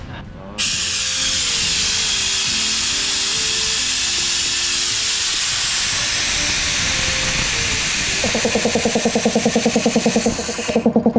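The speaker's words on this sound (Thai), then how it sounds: "มอเตอร์อย่างดีนะครับดูแข็งแรงนะครับปั๊มใหญ่นะครับ เดี๋ยวเรามาลอง ฟังเสียงกันดูครับผม" A Capital 90-litre belt-driven air compressor runs with a loud, steady hiss and mechanical whine, no muffler fitted, then a rhythmic pumping pulse sets in near the end, close and alone.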